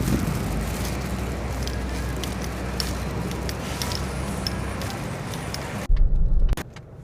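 Car driving through light traffic, a steady broadband road and engine rumble with wind noise, ending in a brief louder low burst before quieting.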